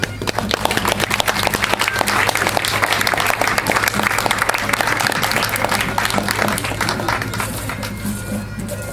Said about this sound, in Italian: Un applauso a Cleos!